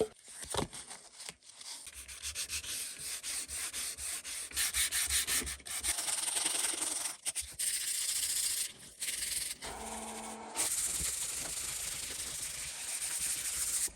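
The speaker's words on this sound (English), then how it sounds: "Just need to do a bit of sanding." Close, rhythmic hand sanding on wood: repeated scratchy strokes with brief pauses between passes, no voices.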